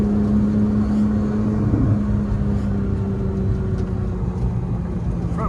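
Straight-piped Porsche GT3 sports car engine droning steadily from inside the cabin while driving, a loud, continuous low rumble with a sustained tonal hum and slight rises in pitch, no talking.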